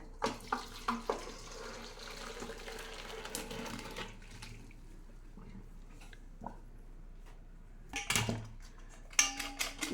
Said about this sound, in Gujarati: હવે આપણે એનું પાણી બધું કાઢી લઈશું